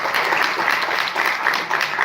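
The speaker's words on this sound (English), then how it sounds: "Let's have a huge round of applause." Steady audience applause at the Aarya Season 3 trailer launch, a dense continuous wash of clapping from a crowd that holds level for the full two seconds with no voices over it.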